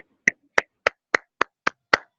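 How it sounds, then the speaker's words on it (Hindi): Seven evenly spaced, crisp hand claps from a single person in an online lecture, each sharp and isolated against near silence, close and moderately loud. "पलक जायसवाल के लिए जोरदार तालियां हो जाएं"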